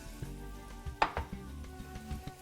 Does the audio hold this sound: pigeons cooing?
no